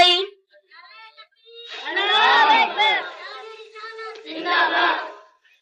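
A crowd at a religious sermon chants slogans in two loud bursts of many overlapping voices, with a single voice calling out briefly before them.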